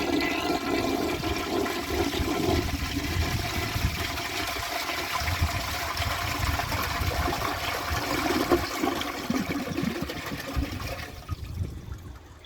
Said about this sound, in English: So let's give the Plebe a flush.